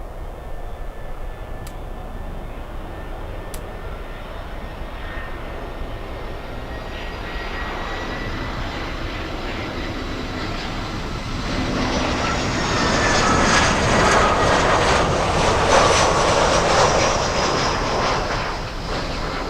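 A Latam airliner going around at Miami International Airport roars overhead, a loud jet engine rumble swelling steadily over twenty seconds as the aircraft climbs closer, with no talking.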